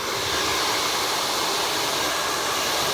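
A hair dryer blows continuously at close range while short kinky hair is dried, a loud, even whooshing hiss that holds steady throughout.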